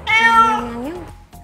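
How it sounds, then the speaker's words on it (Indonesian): A house cat gives one clear, close meow that rises and then bends downward, followed by a short pause and a faint tail of sound. "Itu kucing."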